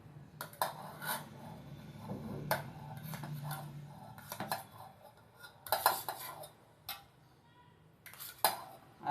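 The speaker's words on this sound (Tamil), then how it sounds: "ஒரு மிக்சிங் பவுல் எடுத்துக்கோங்க." A mixing bowl being handled in a home kitchen during breakfast cooking, with close, intermittent clinks and knocks of metal utensils and dishware in irregular bursts, no talking.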